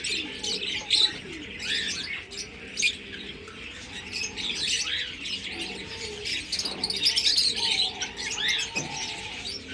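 Pet pigeons in a home coop coo and chirp continuously and fairly close, with no speech over the soft layered calls.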